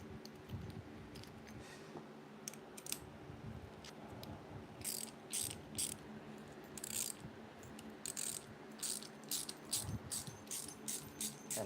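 Ratchet wrench working an 11/16 socket on a shuttle bus electrical job, giving bursts of quick metallic clicks in uneven runs over a low hum, close and moderately loud with no talking.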